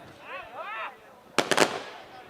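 Firecrackers bursting at a traditional village wrestling match, a quick cluster of three or four sharp bangs in the middle, preceded by a whistling rising tone, with open-air crowd ambience around them.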